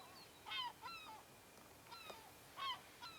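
Gulls call in the early morning countryside, a few faint, distant cries that come in short clusters over a quiet background.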